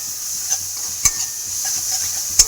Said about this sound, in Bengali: এটাকে একটু ভালো করে আমি কষিয়ে নেবো